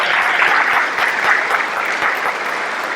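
A church congregation at a sermon gives a steady, dense round of applause, clapping close and continuous throughout without pause.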